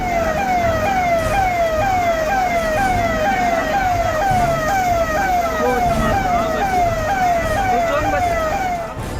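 Police and fire brigade sirens wail loudly and continuously while responding to a building fire, a rapid, repeating rising yelp that keeps going for the whole stretch with traffic noise underneath.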